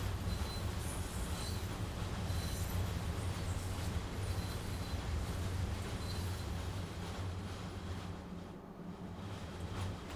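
A train rolls backwards on the Arosa Line in Train Sim World 2, with a continuous low rumble of wheels on track and faint intermittent squeals, steady throughout with no speech.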